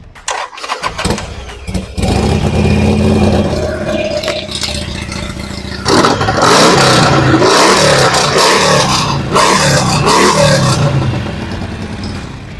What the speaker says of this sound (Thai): ฟังเสียงเครื่องยนต์กันหน่อยนะครับ